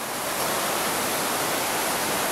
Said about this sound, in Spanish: este río tiene bastante agua, bastante caudal de agua acá en la fonda el río Meléndez